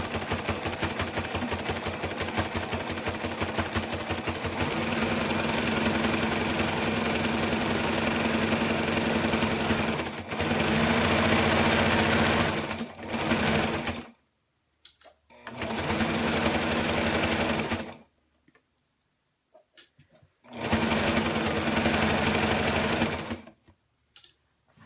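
Sewing machine stitching around the edge of a snuggle blanket with plain off-white thread, a loud steady mechanical whir in long bursts that stop and restart several times, with brief silent pauses between runs.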